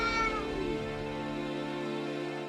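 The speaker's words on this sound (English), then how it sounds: "the River Clan warriors raised their voices and joined their deputy in caterwauling their victory" A cat gives one long, drawn-out yowl, starting high and sliding down into a sustained wavering caterwaul that fades slowly, loud and close with no other sound.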